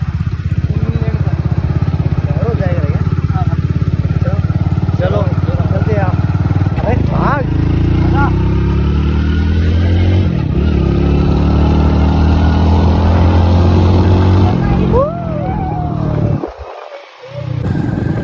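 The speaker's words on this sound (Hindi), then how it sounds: "इन रास्तों पे बाइक चलाने का मजा ही अलग है।" A motorbike riding along mountain roads, its engine droning loud and steady throughout with gear and throttle changes, while someone talks over it, until the engine noise dips near the end.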